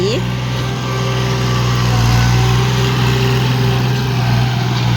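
A three-cylinder 36-horsepower L3608 farm tractor engine runs steadily nearby with an even, throbbing drone, and a voice talks over it.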